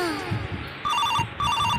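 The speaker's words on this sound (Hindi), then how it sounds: "हाँ हाँ फोन आ रहा है यार, देखो।" A telephone rings loudly and close in a comic village sketch, with two trilling bursts in a row over low background noise.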